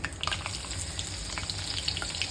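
Cumin seeds and garlic fry in hot oil in a kadhai for a Marathi cluster bean dish, giving a close, steady crackling sizzle with small pops throughout and no voices.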